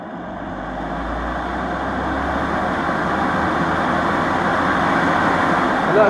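An ECM blower motor, powered through a drop cord, runs on one speed with a steady, even hum and airy whoosh that builds slightly louder over a few seconds, with no one talking.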